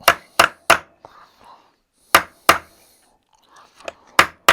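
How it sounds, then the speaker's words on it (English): An old Fuller chisel is driven into wood in sharp, close mallet-like strikes, three quick ones, then scattered pairs with pauses, and a faint murmuring voice in the gaps between hits. "it is an old Fuller chisel set"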